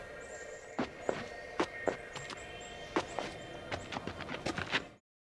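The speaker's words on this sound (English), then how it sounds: "the correct footstep sound plays." Footsteps of a character in the Unity 2D Game Kit crossing different surfaces such as stone and earth, a sequence of crisp, evenly paced steps, close and clear, over a faint steady background tone.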